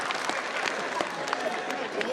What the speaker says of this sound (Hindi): भरपूर तालियां बजा देना